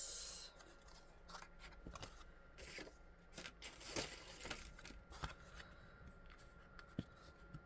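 Scissors cutting card to make split-front Christmas cards, a quiet series of crisp snips and papery rustles at an irregular rhythm, close up and faint, with no talking.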